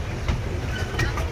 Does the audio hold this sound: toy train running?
yes